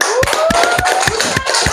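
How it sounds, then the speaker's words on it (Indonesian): Several loud, close hand claps land in a loose, regular rhythm during a school lesson, over a steady tonal background sound. "Kasih tepuk tangan"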